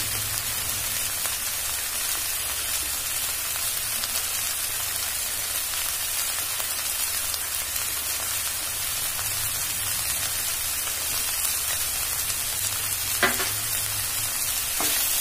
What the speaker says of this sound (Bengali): এবার নেড়ে নেব। দেখবেন মশলাটা যাতে পুড়ে না যায়।